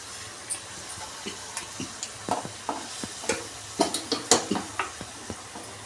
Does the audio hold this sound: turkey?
no